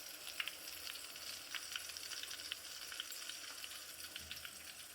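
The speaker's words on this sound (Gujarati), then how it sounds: "જો આપણે લસણનો વઘાર આવે ત્યારબાદ તેમાં હવે જીરું એડ કરવાનું રહેશે" Cumin seeds hit a garlic tempering in hot oil for dal-baati, giving a steady, soft, continuous sizzle with faint crackles throughout and no voices.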